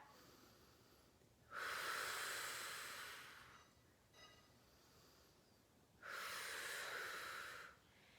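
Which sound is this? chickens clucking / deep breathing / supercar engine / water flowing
deep breathing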